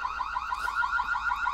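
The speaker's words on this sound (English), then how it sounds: "I enable camera alarm sound to all the cameras" A Reolink C2 Pro security camera sounds its alarm siren, a loud electronic tone pulsing rapidly and evenly, heard alone without voices.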